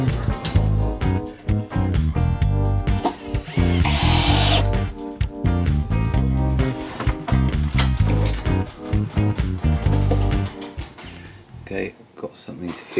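A power drill bores into scrap wood in bursts, its motor whining and stalling in uneven pulses, loud and close, with a person talking over it.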